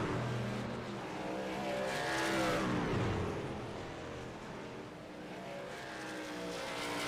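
Race truck in the iRacing sim at Watkins Glen International, engine note swelling loud then easing as power is shut off, with tire noise and steady mechanical drone throughout, no talk.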